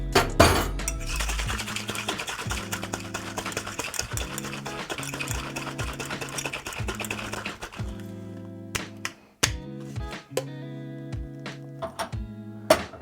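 Cocktail shaker getting a dry shake with egg white and no ice or alcohol, a loose rattling run of rhythmic clinks and taps lasting several seconds, pausing briefly, then resuming in short bursts, loud and close.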